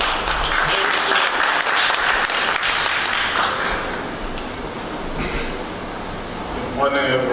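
An audience at a gathering in Zambia gives a round of applause, broad and sustained, with voices and crowd murmur mixed through it and fading slightly toward the end as talk resumes.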